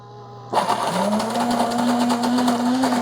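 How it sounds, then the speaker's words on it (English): A Breville Grind & Brew coffee maker starts its burr grinder on coffee beans, a sudden steady whirring grind that rises in pitch and then holds loud and close for several seconds, with a faint motor hum before it kicks in. "what it's doing right now is it's grinding those beans, it's shooting them into this hopper, into the brew basket"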